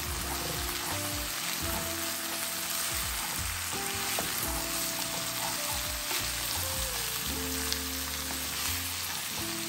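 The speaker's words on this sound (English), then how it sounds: "It's already cooked, so all we're doing is really warming it up." Precooked venison sausage hash warms in a frying pan with a steady, close sizzle, while a few stirring scrapes break through now and then and no one talks.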